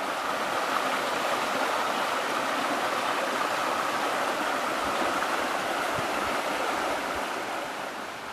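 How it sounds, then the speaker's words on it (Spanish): The Magdalena river in Los Dinamos park, Mexico City, flows as a steady, broad rush of water, even and unbroken, with no voices over it. "el mayor atractivo de este parque es el río Magdalena, que es el último río vivo que existe en la Ciudad de México"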